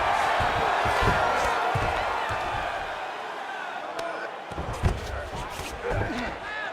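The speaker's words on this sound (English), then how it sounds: "big pop from the crowd as they get back to their feet after a pretty scintillating grappling battle there on the ground" Crowd noise in the UFC 5 video game, a steady roar of cheering that swells and dips around a few thuds and slaps, with voices talking over it.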